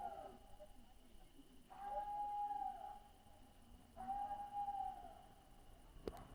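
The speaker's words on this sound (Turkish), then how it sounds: "Yukarıdan kurt sesleri, kurt ulumaları duyulmaya başladı." Wolves howling at night in Horma Canyon, two long, faint, steady howls from a distance with a quiet gap between them, over a soft background hiss.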